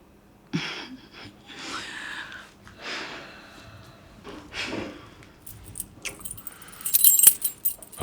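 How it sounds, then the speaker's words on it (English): A bunch of house keys jangles in several bursts, close and clear, with a louder metallic rattle near the end of the scene. "House keys."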